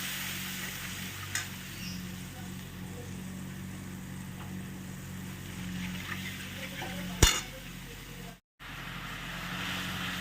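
Spices sizzle and fry in oil with ginger, sugar and a splash of water for a Bengali banana-flower ghonto, a steady close frying hiss with occasional stirring clinks and one sharp clatter.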